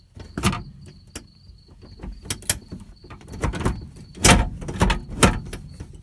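B&M ratchet shifter clicked through its gears in a 1972 Pontiac GTO, a series of sharp mechanical clacks and ratchet snaps at irregular intervals, close and alone over a faint steady hum.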